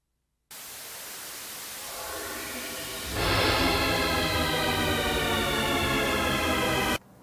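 A photograph converted to sound with its gamma raised gives steady broadband hiss that swells partway through and then holds loud and dense, with faint stepped tonal bands running through it until it cuts off.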